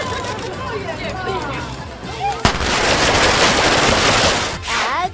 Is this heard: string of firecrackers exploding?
yes